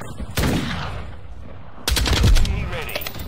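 Lachmann 762 rifle gunfire in Call of Duty MW2: two bursts of rapid automatic shots, the second louder and longer, with no talk over them.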